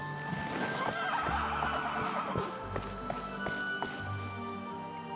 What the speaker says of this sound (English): I'm gonna get my horse